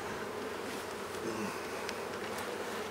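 Honey bees buzzing thickly and constantly during a beehive inspection, a close, even swarm drone with a few individual bees whizzing past, and no talk.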